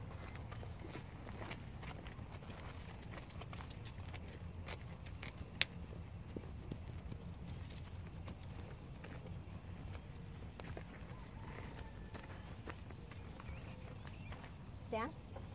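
A horse being trained to stand still shifts and moves its feet, giving soft, irregular hoof steps at close range under steady talking and low background noise.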